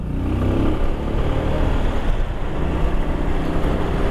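A Bajaj Pulsar motorcycle accelerates in city traffic, its engine giving a loud, continuous low roar that stays close and even for a few seconds with no voices over it.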